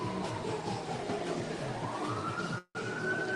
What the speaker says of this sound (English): And you notice every weekend, look, ambulance, fire trucks.